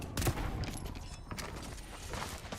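Gunfire from shooting enemies in the shooter game Synced: Off-Planet, a burst of rapid shots at the start followed by scattered sharper cracks over a dense rumbling game backdrop.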